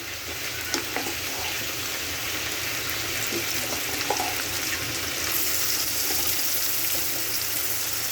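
Onions fry in a pan for a country-style deshi chicken curry, giving a continuous close, crackling sizzle that holds evenly throughout with small pops and no speech.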